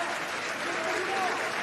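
Brief stretch of crowd applause for Emmanuel Macron, dense even clapping with faint voices mixed in.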